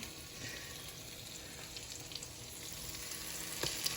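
Challah French toast frying in a pan over low to medium heat, a soft steady sizzle running throughout with faint crackles and a small pop near the end.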